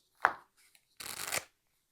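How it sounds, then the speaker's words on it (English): A deck of playing cards is shuffled for a solo tabletop game, a quick riffle burst followed by a longer fluttering riffle, close and crisp, with no talk. "One more shuffle."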